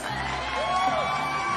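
Women in the audience at a live bohemian music show shout and whoop in a lively cheer, a dense crowd roar with one voice rising above it.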